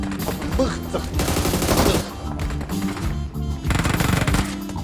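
Rapid bursts of automatic gunfire in the mobile battle-royale game PUBG Mobile, loud and close, coming in several dense volleys separated by brief lulls.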